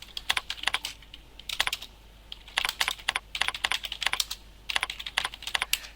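Bursts of typing on a computer keyboard while user details are entered into point-of-sale security software, with close, crisp key clicks in irregular clusters separated by brief pauses.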